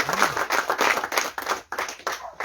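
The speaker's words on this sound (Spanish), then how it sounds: "Dale fuerte palmas a nuestro Señor." A church congregation claps in a quick rhythmic pattern during a worship service, loud and close, with each burst of clapping sharp and even.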